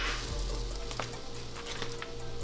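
Nutella waffles cook in a waffle maker, a steady sizzle with faint crackles and a low hum, plus a few brief clicks and taps, no speech.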